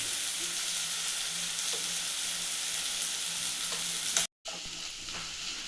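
Onions fry in a pan for mango chitranna with a steady close sizzle and occasional stirring scrapes, cut by a brief moment of silence near the end.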